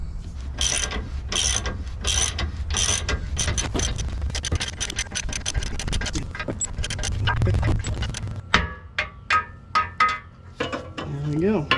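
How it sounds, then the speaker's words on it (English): Ratchet clicking as a bolt is tightened on a Silverado's 3-inch leveling key, with repeated metallic mechanism clatter throughout, then sharper separate clicks near the end, close and fairly loud. "Now we got to put our tool back on and tighten this down"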